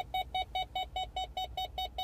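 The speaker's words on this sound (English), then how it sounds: "You can hear the reverse sensors going off because I have it in reverse and the tailgate is down" A 2013 Ford F-150 reversing with the tailgate down sets off its rear parking sensors: a steady, evenly spaced electronic beep, about five per second, clear and close with no talking.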